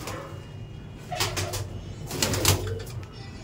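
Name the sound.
pigeons cooing in a pigeon loft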